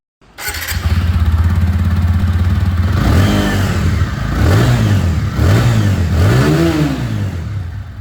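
A TVS Apache RTR 160 2V motorcycle engine idles loudly, then revs up and down in several throttle blips, its exhaust rumbling close by with no talk.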